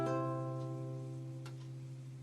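Guitar strings 5, 2, 3 and 1 sounded together as one sustained chord held like a semibreve, ringing close and then slowly decaying with nothing else over it.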